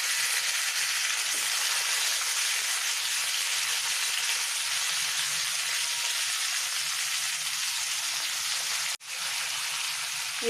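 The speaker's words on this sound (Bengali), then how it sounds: "ফোড়ন ভাজার সুন্দর গন্ধটা বেরিয়ে গেলে দিয়ে দেবো ম্যারিনেট করা চিকেনগুলো।" Marinated chicken hits hot spiced oil in a pan and fries with a steady, loud, close sizzle that runs unbroken for the whole stretch, with a brief dip near the end.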